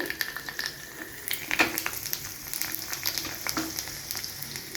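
Close, crackling sizzle of dried chilies in hot tempering oil, with sharp pops and spatters, steady throughout with no voices.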